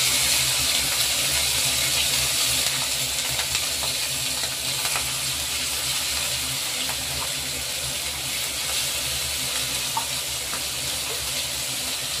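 Hilsa fish frying in oil with black cumin seeds and dried red chilies makes a dense, loud, continuous hiss with no break.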